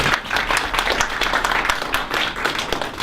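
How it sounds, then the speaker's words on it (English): An audience applauding after a talk: dense, steady clapping from many hands, sustained and fairly close, with no speech over it. "Let's give her a round of applause."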